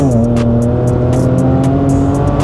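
A car engine held at full throttle, loud and close, with a steady high rev tone and strong harmonics sustained throughout, no talk.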